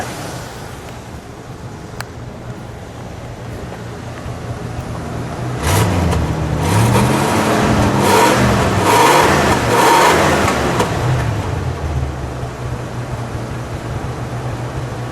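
A 1976 Lincoln Continental Mark IV engine idles, then revs up in several rising bursts for a few seconds before settling back to a steady idle.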